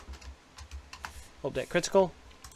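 Soft keyboard clicks tap at an uneven pace, then a person speaks briefly over them.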